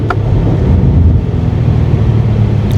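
BMW M5 F90 V8 heard from outside, a loud, steady low engine roar that holds at a constant drone throughout, with no talking.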